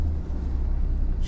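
A Ford Ranger engine runs with a steady, deep rumble close by, holding an even idle for a brief moment.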